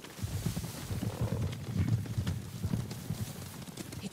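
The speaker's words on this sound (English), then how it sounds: "Horses. They're coming for us." Several horses approach in the video game Ghost of Tsushima, a steady clatter of hooves that rises slightly in the middle and keeps rolling, with no talking over it.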